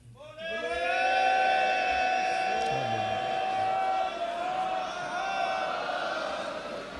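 A crowd at a Sikh gathering shouts a jaikara together, a loud sustained collective cry that swells, holds for several seconds and slowly fades.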